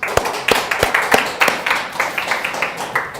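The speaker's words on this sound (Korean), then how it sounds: "하나님께 영광의 박수를." Church congregation clapping during a Sunday worship service, a run of sharp, separate hand claps at an uneven rhythm, fairly close and moderately loud, without a steady applause wash.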